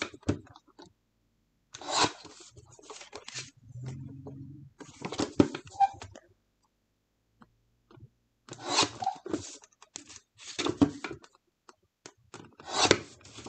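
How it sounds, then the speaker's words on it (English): A personal paper trimmer slices through photos at a scrapbooking table, giving several short, close scraping and rasping strokes separated by quiet pauses, with no talking. "I'm going to trim with my personal trimmer. I'm going to trim my photos down just a little bit."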